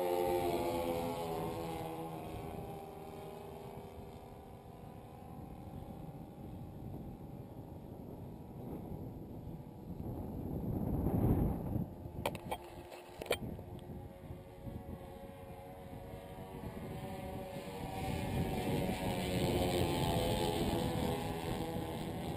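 A CMP Mosquito Maiden model boat runs on the water, its engine a faint, steady high-pitched drone that swells and fades as it passes, with a brief clattering knock midway and no voices.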